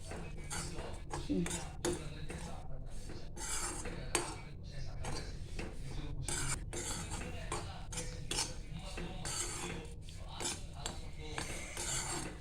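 A spoon stirs and scrapes dried fish (sukat) as it dry-roasts in a pan over a very low gas flame, giving steady metallic clinks and rasping scrapes throughout, with faint talk underneath.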